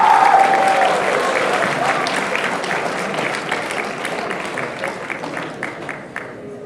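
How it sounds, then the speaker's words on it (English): A congress audience at the Southern California Winter Congress gives the best speakers a round of applause, dense and sustained, fading slightly toward the end, with a voice briefly audible at the start. "Another round of applause for our best speakers"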